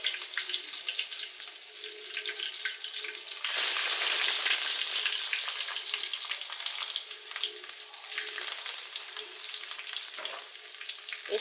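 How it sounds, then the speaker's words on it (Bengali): Onions fry in a pan with bay leaves while a banana-flower dish is cooked, giving a steady close sizzle that swells loudly around the fourth second and then settles into a constant crackling hiss. "পেঁয়াজটা ভালো করে ভাজবো"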